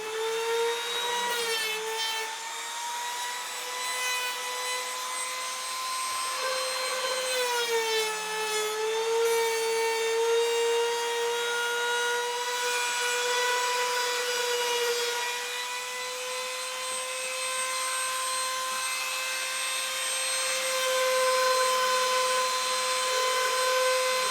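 Router bit cutting maple jaws for a wooden vise, a loud continuous high whine that holds steady, with slight pitch dips as the bit takes the cut.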